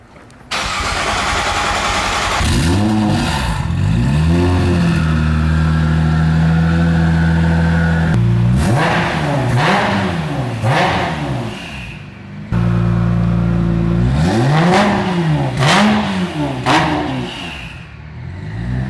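A 2000-horsepower Nissan GT-R R35 street build fires up and revs hard several times, loud and close, with sharp climbing and falling sweeps between brief idles and a short pause midway, with no talking.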